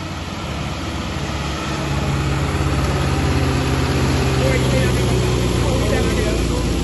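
A 4x4 tractor engine labours under load in a high gear, a steady loud low rumble that swells slightly as it pulls, with faint talk over it.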